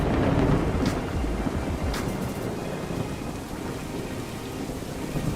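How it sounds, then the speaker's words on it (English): Rain pours steadily throughout a Minecraft thunderstorm with a thunder mod, with loud rumbling thunder early on and sharp crackling strikes close by around the first and second seconds. "The lightning struck really close, which the thunder mod made a much crazier sound because of its proximity."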